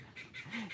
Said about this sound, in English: I got some duck over there making so much noise I can't hear myself.